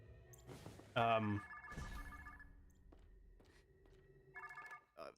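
A phone in the animated show Murder Drones rings with a couple of short electronic bursts, moderately loud, among talking voices.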